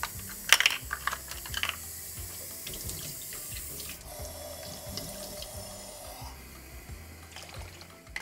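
Lukewarm water runs from a tap for challah dough, preceded by a few sharp clicks and light clatter, then a steady stream for a couple of seconds that fades out.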